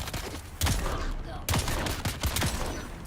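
Gunfire in Dune: Awakening comes as repeated sharp shots, one near the start and another sharper burst midway, with scattered pops in between over a busy game background.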